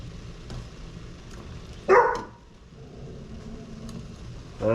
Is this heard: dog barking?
yes